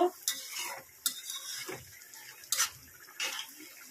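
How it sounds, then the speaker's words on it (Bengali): Green banana pieces get stirred while frying in a pan, a faint, soft sizzle broken by several sharp scraping and clinking strokes of a spatula against the pan at an uneven pace, with no talking. "একটু লাড়া দিয়ে নিব"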